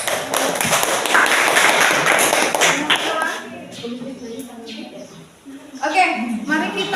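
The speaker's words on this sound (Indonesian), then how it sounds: "Beri aplaus." Students in a classroom burst into dense applause for about three seconds at the end of a group presentation on ecosystem components. The clapping then tapers off and scattered voices and light taps follow.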